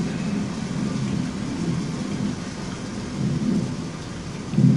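Steady, heavy rain pours down while low thunder rumbles through it, swelling now and then and louder near the end.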